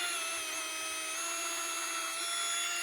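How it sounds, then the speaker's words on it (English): A 3/8-inch drill bit boring a hole for a pin in a high-tensile H brace, giving a steady, continuous whine with a high, even tone that holds for the whole stretch. "We are using a drill bit that is the exact size of these pins"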